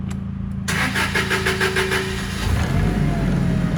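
A 2019 Toyota 32-8FG18 forklift starting on a chilly day: a brief crank, then the engine catches at once and settles into a loud, close idle with a slight rise near the end.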